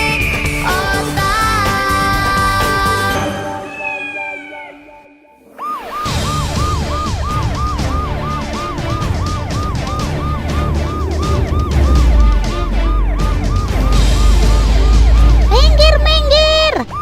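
An ambulance siren wails through a busy cartoon scene, with repeated rising and falling whoops over backing music, fairly loud and close after a brief lull near the middle.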